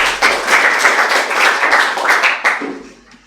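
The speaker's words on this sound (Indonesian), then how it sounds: "Terima kasih, tepuk tangan" A class of students claps together in a dense, close burst for about two and a half seconds before it stops abruptly.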